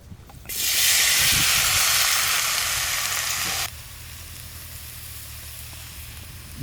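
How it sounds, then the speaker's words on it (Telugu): Tomatoes and tamarind cooking down in a pot for tomato pickle give a loud, steady hissing sizzle that cuts off abruptly partway through, leaving a quieter low bubbling simmer. "ముందుగా టమాటాలు చింతపండు వేసుకుని మెత్తగా ఉడకబెట్టుకోవాలండి"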